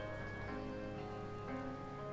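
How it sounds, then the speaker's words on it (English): Steady rain falls in the video game Final Fantasy XIV as a soft, even hiss beneath a quiet sustained musical melody, with no voices. "I also really haven't been here while it was raining either."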